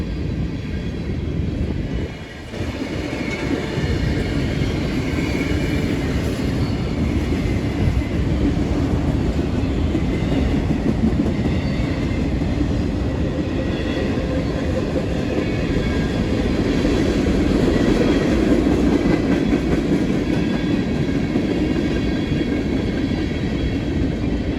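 A CSX manifest freight train made up of auto racks, tank cars, hoppers and flat cars rolls past on the Indianapolis Line at Fortville, giving a loud, continuous rumble of wheels and cars that stays steady from start to finish.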